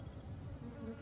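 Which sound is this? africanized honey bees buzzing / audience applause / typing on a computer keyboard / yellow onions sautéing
africanized honey bees buzzing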